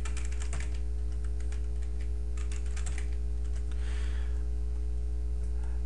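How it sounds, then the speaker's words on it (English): A password is typed on a computer keyboard during an Ubuntu 9.10 Linux install, a fast, close run of crisp key clicks over a constant low electrical hum. "Type in my super secret password."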